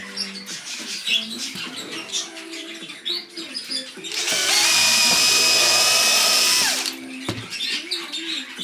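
Power drill driving screws into the wooden frame of a rabbit cage, a loud sustained whine of about three seconds midway, with short drill bursts and handling noises before and after.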